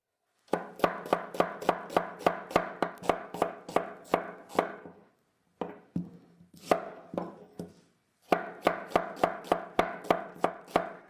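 A knife chops a vegetable into strips on a cutting board, with quick, evenly spaced close-up strokes in three bursts separated by short pauses and no voices.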